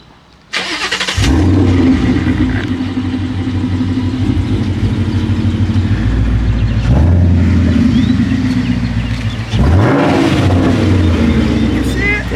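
Ford Mustang 5.0 V8 cranking and firing up, then a loud burbling idle with sharp throttle blips and revs close by, voices talking over the engine.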